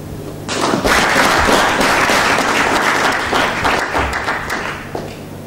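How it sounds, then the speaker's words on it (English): Strong, sustained applause from a conference audience at a regional population growth event, starting abruptly and filling the room steadily before easing slightly toward the end. "We all deserve a round of applause."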